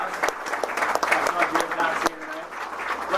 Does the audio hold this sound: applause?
yes